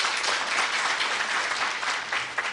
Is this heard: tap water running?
no